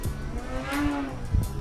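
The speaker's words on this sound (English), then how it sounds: "Let's try a knife edge spin now." Precision Aerobatics Katana 52 balsa RC plane in a knife edge spin, its electric motor whining steadily with a rising and falling pitch, loud and close, with no talking.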